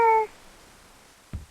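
A cat gives one short, clear meow at the start, a bright tonal call lasting a fraction of a second, followed by quiet and a faint soft thump near the end.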